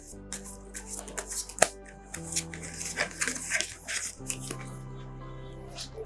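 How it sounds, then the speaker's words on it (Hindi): Tarot cards get shuffled and drawn by hand, a run of soft close riffling, flicking and slapping with a few sharp card snaps, quiet and without talk. "निकालने हैं हमने 3 कार्ड्स।"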